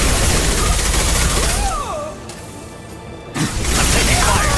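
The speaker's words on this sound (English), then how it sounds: "I'm taking fire!" Gunfire in Mass Effect 2 Legendary Edition: sustained, loud shooting that briefly drops away in the middle and then resumes. Game voices and warbling effects are mixed in.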